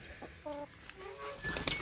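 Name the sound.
hens clucking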